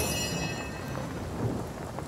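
A downpour with rumbling thunder in the fantasy role-playing game Divinity: Original Sin, a dense, loud, constant hiss of rain over low rolling rumble, with no voices.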